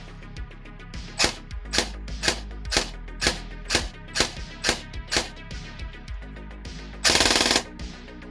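An airsoft gun with a Warhead brushless motor fires a series of sharp, evenly spaced single shots, then a fast buzzing full-auto burst near the end, all close and alone.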